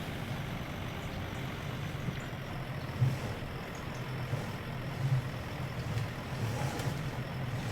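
A tractor engine in Farming Simulator 19 runs at a steady low rumble, idling close by with a few small thumps over the continuous drone and no talk.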